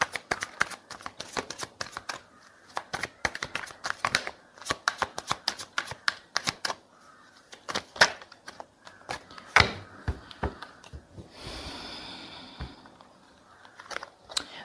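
Tarot cards being shuffled close up, a run of crisp riffling bursts and slaps across the whole stretch, with a softer sliding shuffle near the end.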